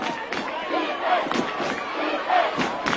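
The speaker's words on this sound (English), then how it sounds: "Lexington away crowd making a lot of noise for defense." Away fans roar and chant for their defense at a high school varsity football game between Lexington and WHS, a continuous crowd din with rhythmic bursts and shouts heard from a distance.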